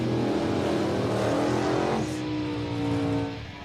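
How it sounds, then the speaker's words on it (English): A 1949 Anglia drag car with a 392 Hemi engine revs loud and close, a sustained throaty roar that dips briefly in pitch midway, then climbs again. "The engine I put in was a 392 Hemi."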